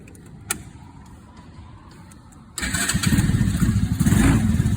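A Mini Jeep aircraft tug, started on a 65-degree overcast day without choke, has its engine cranked with a soft whir before it catches and settles into a loud, close, chugging idle.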